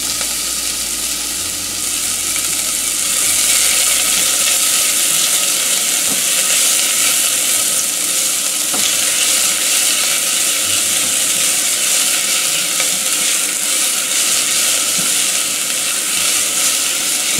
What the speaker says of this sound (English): Now at this point, we're just sweating the onions.